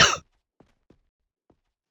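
Single cough, sharp and loud at the very start, followed by a few faint soft breaths or small sounds spaced out in near silence.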